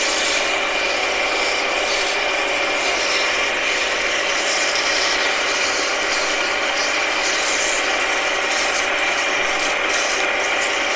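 An abrasive is held against turning wood on a lathe while making honey dippers, producing a steady, bright, hissing scratch with a faint mechanical whir underneath, close up with no talking.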